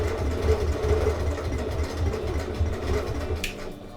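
A sewing machine stitches at a steady quick rhythm during free motion quilting along a ruler, chattering close and clear, with a brief sharp click near the end.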